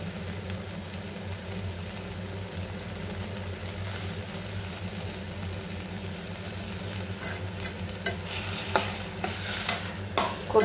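Coriander stems fry in a pan for chutney with a steady, close sizzle, while stirring scrapes and taps grow busier and louder over the last few seconds.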